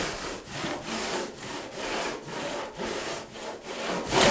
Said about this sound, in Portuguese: a plana de longarina, também chamado ratinho